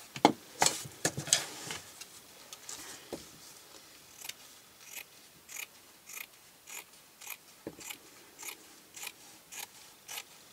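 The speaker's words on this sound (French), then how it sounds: "je vais découper à 4 cm du bord" Scissors snip through padded fabric for a wedding album cover in a steady series of short, crisp cuts, close and fairly quiet, a little faster at first and then evenly spaced.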